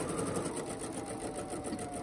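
A sewing machine runs steadily and close up, stitching elastic ear loops onto a fabric mask with a fast, even mechanical whir and no pauses.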